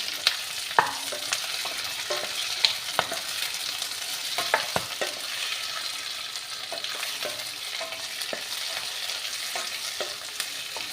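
Red tomato and chillies frying for a chili chutney, a steady close sizzle with scattered sharp clicks and stirring scrapes throughout, no talking.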